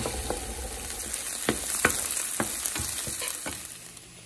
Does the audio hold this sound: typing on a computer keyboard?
no